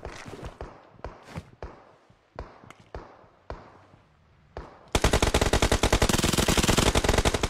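Scattered single gunshots in a video game crack at irregular intervals, then a sustained burst of rapid automatic fire takes over, loud and close.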